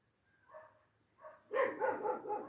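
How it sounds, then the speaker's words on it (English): A dog barks indoors, a few soft sounds first and then a run of several close, loud barks in quick succession. "Come on, dog!"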